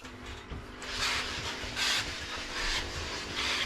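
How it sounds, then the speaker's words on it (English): Steam iron puffing steam in repeated bursts while a shirt is ironed, about four soft hissing puffs over a steady low background hum, close by and with no voices. "Again, pumping with the steam."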